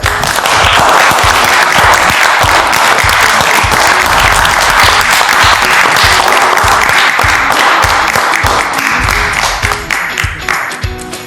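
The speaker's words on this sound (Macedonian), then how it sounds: "Голем аплауз за сите" A crowd gives loud, sustained applause, with dense clapping close by that goes on steadily for several seconds and then thins out toward the end.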